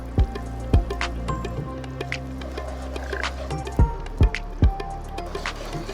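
Khoya stirred into crushed jaggery melting in a pan, giving wet squelching and sticky clicks from a spatula at irregular intervals, close and fairly loud.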